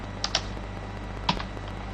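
A few scattered keystrokes on a QWERTY computer keyboard, sparse taps close by over a steady low hum, with no talking.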